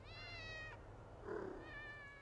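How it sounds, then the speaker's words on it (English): Cats meowing in the video game Thirty Flights of Loving, a couple of drawn-out meows separated by a short pause, faint and soft against quiet ambience. "Cats! I hear kitties!"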